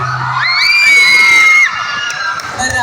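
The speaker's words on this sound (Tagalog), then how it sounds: "wala po bang palakpakan dyan?" Crowd at a Mis Gay 2025 pageant cheering, whooping and shouting loudly, with high-pitched yells and screams rising over a dense clamour that eases slightly toward the end.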